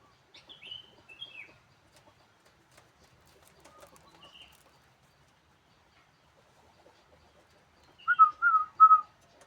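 A pet tekukur (spotted dove) calling and whistling: faint, scattered high whistled notes early on, then a louder cluster of clear, close tonal calls near the end, with quiet pauses in between.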